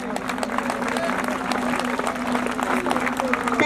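Audience applause at an open competition held by a defence academy, a dense, steady wash of clapping filling the whole stretch with a persistent tonal hum underneath.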